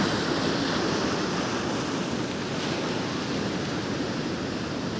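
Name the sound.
large ocean waves coming in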